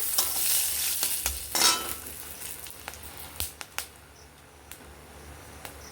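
Two bay leaves and dried red chillies frying in leftover oil after potatoes were lifted out, with scattered clicks and scrapes of a spatula over a light crackling sizzle, close and alone.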